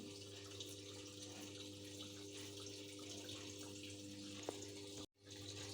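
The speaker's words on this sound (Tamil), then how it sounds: "பாருங்கள், தண்ணி வந்து துணியெல்லாம் மூழ்கிற அளவுக்கு வந்திருக்கு." Samsung top-load washing machine, about seven years old, filling with water during a wash cycle: a steady, close rushing flow with a constant low hum, a brief click near the end and a short dropout.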